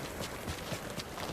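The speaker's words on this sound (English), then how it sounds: "Good horse, Kage" Horse hooves in the samurai game Ghost of Tsushima clop in a quick, steady galloping rhythm, fairly loud and close over a dense wash of game ambience.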